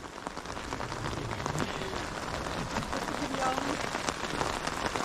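Heavy rain pours steadily during a hike in the Ölüdeniz and Faralya area of Turkey, with a dense patter of drops drumming on surfaces and umbrellas close by, continuous and fairly loud.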